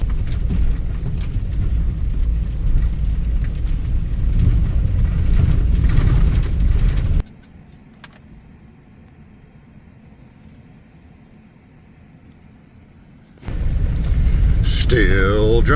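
A car drives along a bumpy washboard dirt road near old Route 66, a loud, steady rattling rumble that drops to a quieter hum midway and then returns at full force.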